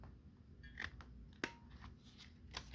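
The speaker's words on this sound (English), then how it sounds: "Just trim the corner." Scissors trimming the paper corners of a junk journal: a few sharp, close snips spaced out over quiet room tone, with one louder cut in the middle.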